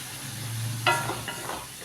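Onions frying in a pan with oil, later joined by tomato paste, a soft sizzle with a brief stirring scrape in the middle, close and fairly quiet.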